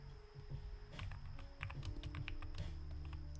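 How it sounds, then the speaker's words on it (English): Rapid, uneven clatter of keys on a computer keyboard, with irregular bursts of key presses over a steady low background hum and faint music, close and fairly quiet. "this is like my first night really back working with this keyboard"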